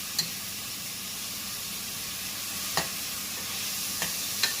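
Pieces of pork drop into a pot and cook with a continuous soft sizzle and hiss, a few sharp clinks of a utensil against the pot breaking through the steady frying noise.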